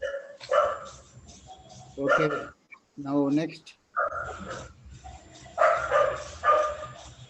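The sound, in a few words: dog barking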